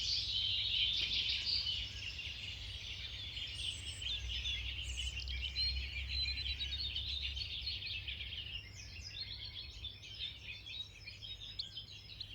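Wild birds sing continuously, with overlapping high chirps and trills that stay fairly soft and steady over a faint outdoor hush, and no voices are heard.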